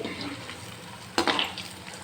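Small punugulu batter fritters fry in oil until brown, a close bubbling sizzle with a sudden burst of crackling midway and light utensil clinks.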